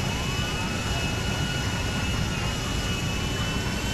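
Jumbo jet engines roar at full thrust in the video game GTA V, a steady, loud, unbroken whine and rumble that holds constant for the whole stretch.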